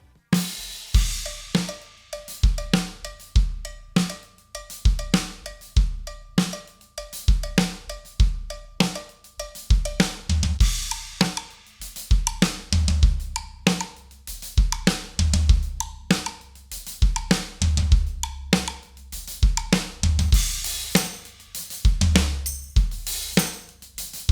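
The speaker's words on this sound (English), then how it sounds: "talking about cowbells, woodblocks and tambourines" Bright metallic cowbell strikes and hollow woodblock knocks repeat in steady rhythmic patterns, joined later by jingly tambourine hits, loud and close with no voices.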